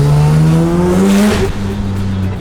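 A highly modified Mazda RX7 revs loud and close in central London, its engine note rising steadily and then dropping off as the throttle eases, with a harsh, buzzy rasp running throughout.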